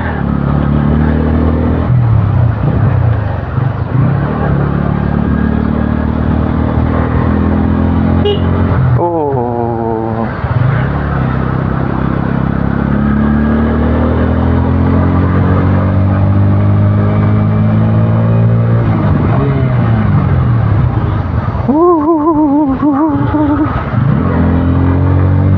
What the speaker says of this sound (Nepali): यो साउन्ड सुनेर यसको के ठुलै बाइक आएको छ होइन